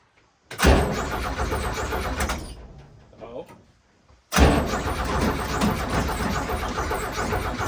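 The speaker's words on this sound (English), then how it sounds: "Threw a battery in it. It turned over." A 1964 Chevy G10 van engine cranking over loudly up close, a sustained churning burst that stops briefly and then resumes for several more seconds.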